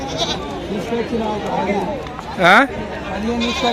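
A goat bleats once, loud and wavering, at a weekly livestock market in Rajarampalli where sheep and goats are sold, set against constant nearby talk and crowd chatter.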